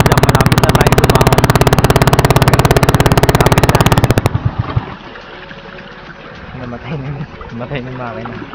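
A boat engine chugs loudly and steadily, then abruptly stalls, leaving quieter water sounds and faint background voices.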